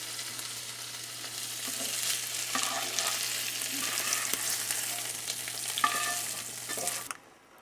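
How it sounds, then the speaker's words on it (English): Tofu simmering in a korma sauce of spice paste and coconut milk in a pan, with a soft steady sizzle and bubbling and occasional stirring scrapes that cut off abruptly near the end, no talking. "Now tofu is gonna simmer in this beautiful sauce."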